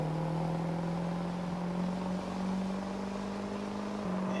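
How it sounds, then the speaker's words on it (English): A Duramax diesel truck engine in Farming Simulator, apparently a 2002 pickup, drones at a steady low pitch as it pulls away, a constant hum that holds level throughout before a brief rise at the very end. "Engine sounds might be a skosh off. I don't remember my Duramax making that kind of noise"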